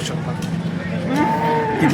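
A cow at a cattle market gives a low, drawn-out moo close by, set against busy market background noise and nearby chatter.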